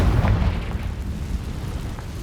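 A Confringo blasting spell bursts in Hogwarts Legacy, a loud booming explosion with a heavy low rumble that fades into a sustained roar.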